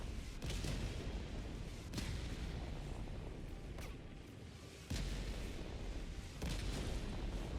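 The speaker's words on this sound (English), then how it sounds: "that command bunker's getting shots on us" Distant heavy shots from an enemy command bunker in Helldivers 2 boom at intervals of about one to two seconds, each a dull thump over a constant rumbling battlefield roar.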